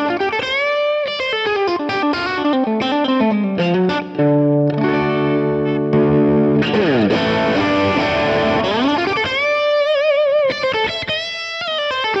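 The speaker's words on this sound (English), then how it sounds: "I'm going to play my crunch channel on its own to start with" Distorted electric guitar plays crunchy chords and melodic runs through an amp's crunch channel, loud and continuous with sliding bends and ringing sustained notes.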